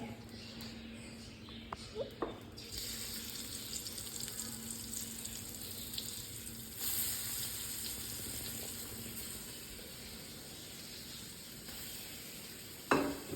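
Fish fries in a pan with a steady, close sizzle and crackle, with a few faint knocks and a louder clatter near the end.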